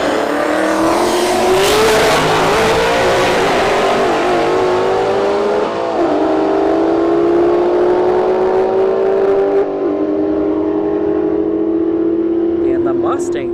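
Ford Mustang and Camaro SS in a street drag race at a motorsports park, loud engines revving and accelerating hard with rising whining harmonics, a brief shift, then sustained roaring pull, a commentator talking over it.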